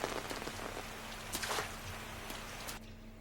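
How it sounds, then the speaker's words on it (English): Rain falling steadily in a scene from the anime Monster, a dense hiss of drops on surfaces with a few louder patters, close and continuous with no voices. "the way they had the rain come in, the audio for the rain come in after"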